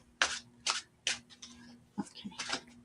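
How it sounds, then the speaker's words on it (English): Oracle cards being shuffled by hand: a run of crisp riffling bursts, about five or six in under three seconds, close and fairly quiet, over a faint steady hum. "Mute myself while I shuffle."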